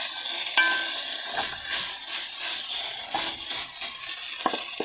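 Steady loud sizzling in a hot pan as egg is stir-fried into fried rice with red acre cabbage microgreens, sprouts and green onion, with occasional scraping clicks from the spatula.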